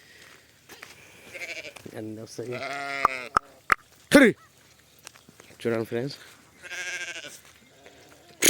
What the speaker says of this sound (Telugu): అక్కడ ఊరికి వస్తాయి గొర్రె పిల్లలు ఎట్లా వస్తాయి చూడండి